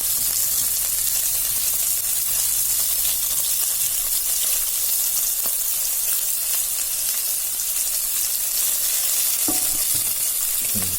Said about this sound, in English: Nice sizzling sound of cooking taking place.